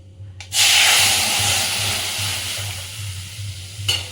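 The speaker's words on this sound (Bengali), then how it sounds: "আমি এবার ডালটা দেবো আচ্ছা এবার ডালটা ঢেলে দিচ্ছ" Kalai dal is poured into hot oil seasoned with asafoetida, setting off a sudden loud sizzle that hisses strongly and slowly eases, with a second brief flare near the end.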